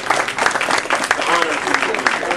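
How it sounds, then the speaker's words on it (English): A lecture audience claps together in a brisk, fairly close burst of applause, uneven, dense patters rising and dipping over a couple of seconds with no talk over it. "Please give him a big round of applause."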